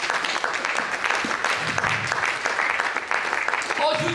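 A church congregation claps and cheers continuously, a dense wash of applause with voices calling out across the room.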